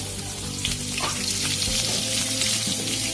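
Vegetables sizzle and crackle in hot oil left from frying bata fish for a light fish curry, a steady, close, continuous frying hiss with occasional stirring.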